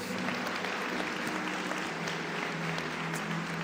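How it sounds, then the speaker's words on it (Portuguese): Church congregation applauding the Lord in a dense, continuous roar of clapping, with faint voices mixed in and a low hum beneath. "Você pode aplaudir o Senhor."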